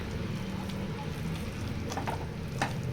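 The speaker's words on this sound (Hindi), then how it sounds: "मैशर से इसे अच्छे से मैश कर लेंगे" Mutton kabab paste is mashed with a masher inside a pressure cooker, a steady thick squelching and scraping texture with a few sharper clicks of metal, close and continuous.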